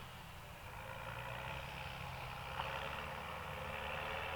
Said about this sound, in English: So the aerator is cutting into the ground